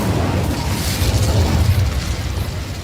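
Incendio fire spell in Hogwarts Legacy, a loud continuous roaring whoosh of flame that rumbles steadily throughout with no talking.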